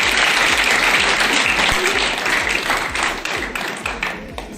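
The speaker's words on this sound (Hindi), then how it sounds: "बिलाल सर के लिए जोरदार तालियां।" Loud, sustained applause from an audience at a school Teachers' Day celebration, dense clapping that stays steady for several seconds before thinning slightly toward the end.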